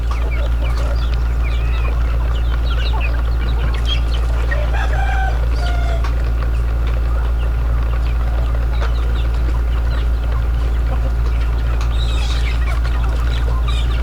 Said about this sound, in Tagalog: dumami yung aking mga manok rito